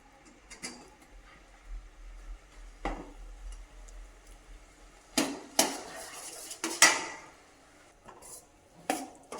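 Grated coconut is stirred into melted jaggery in a pan, heard as sparse scrapes and clinks of a utensil against metal, with a few louder knocks, close and otherwise quiet.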